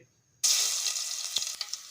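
Fresh-pounded ginger paste, a teaspoon, hits a tablespoon of hot oil in a pan with a sudden loud sizzle that holds steady for over a second, with a couple of brief pops and spatters near the end.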